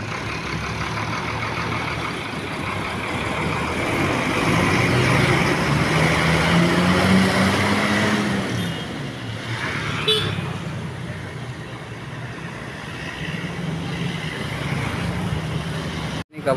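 A PR127 bus of the Gapuraning Rahayu line pulls away from the Cigaru agent on a busy roadway. A loud engine rumble swells toward the middle, then eases off among other traffic noise.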